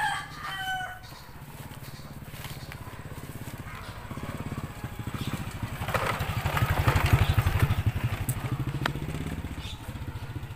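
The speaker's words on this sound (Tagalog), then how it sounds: "tapos may dumaan pang motor" A motorcycle passes along a narrow village lane, its engine rising to a louder peak midway and then easing off, while a rooster crows and occasional clatter sounds nearby.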